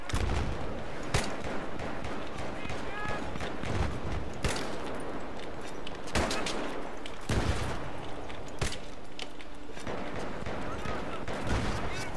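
Bursts of Battlefield 3 gunfire crack out repeatedly over a busy, noisy backdrop, with sharp shots spaced every second or two and a voice talking in German underneath.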